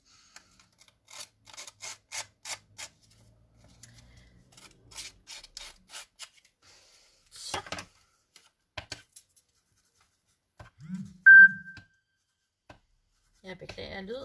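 Hard rubbing and pressing on tough old sheet music paper, a series of dry scratchy strokes in uneven bursts, close and fairly faint, with a short sound and a brief voice near the end.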